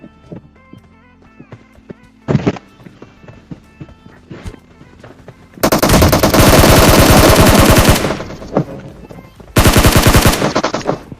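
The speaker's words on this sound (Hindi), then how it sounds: "तभी ये बंदा हमारे ऊपर गोली चलाता है।" Gunfire in a shooting video game: scattered single shots and sharp bangs at first, then two long, loud bursts of rapid automatic fire, each lasting a few seconds.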